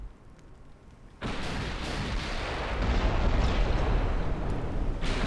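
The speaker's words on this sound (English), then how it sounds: "they are hitting with 12-inch guns" Heavy 12-inch naval guns firing in a King George V versus España warship battle game, a sudden loud roaring blast at about one second that swells into a sustained rumbling barrage of overlapping booms.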